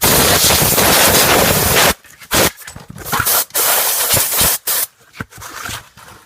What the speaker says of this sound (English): if you have it available, you got an air gun